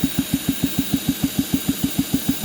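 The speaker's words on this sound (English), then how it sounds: "So we're going to apply our drill." A 1978 Honda Hobbit moped engine is spun by a drill to test the points ignition spark, giving a steady, rapid series of evenly spaced thumping pulses, close and fairly loud, with no talking.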